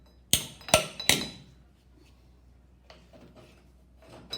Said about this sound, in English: You may have to help it with the hammer.